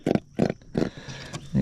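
A freshly caught grunter fish in a boat on a tropical estuary makes a series of four loud, low, rhythmic croaking grunts close by, with short pauses between them and no talking.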